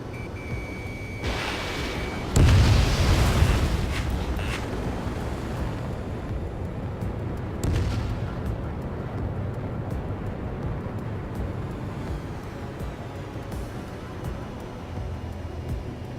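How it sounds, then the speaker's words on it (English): Jet aircraft dogfight in Ace Combat 7, a continuous roaring rush of engine and wind noise with a loud blast-like surge partway through and another swell later, no talking. "Evading enemy missile."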